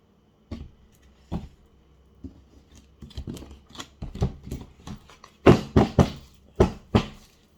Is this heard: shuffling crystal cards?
yes